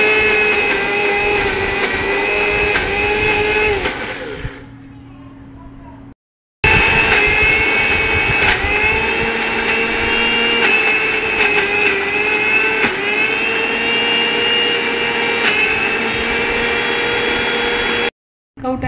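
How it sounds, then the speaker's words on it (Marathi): Mixer grinder blending wood apple pulp for chutney, a loud steady whirring motor that runs, winds down, stops briefly, then restarts and runs at full speed before cutting off. "चटणी करता आपण हे कवठ मिक्सरमध्ये घालून घेणार आहोत"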